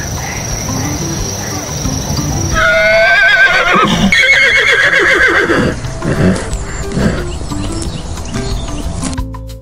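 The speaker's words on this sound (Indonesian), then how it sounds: "Horse." A horse lets out a loud, close whinny while hooves clip-clop, with crickets and insects buzzing steadily in the background.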